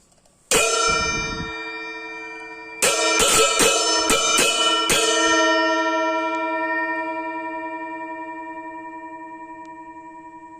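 Balinese cengceng cymbals, 25 cm, made by Gong Tari, are struck once, then rapidly several more times, each bright metallic clash ringing out and decaying slowly in a long shimmering tail.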